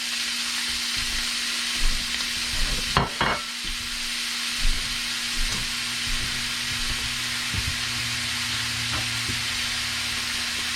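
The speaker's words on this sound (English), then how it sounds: "Let me throw this bacon in there." Bacon fries in a pot of soup on medium-high heat, a constant hiss with a low hum, a few clattering knocks and stirring bumps near the middle.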